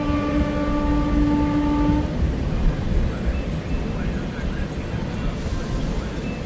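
A train at a platform of Mantralayam railway station gives a long, steady horn blast for about two seconds, then a loud, continuous rumble of rolling wagons and station bustle carries on to the end.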